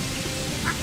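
A duck gives a single short, faint quack over a steady outdoor background noise.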